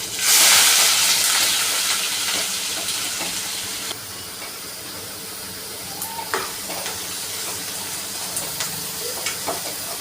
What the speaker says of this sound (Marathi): त्यानंतर आता बारीक कट केलेला कांदा टाकणार आहे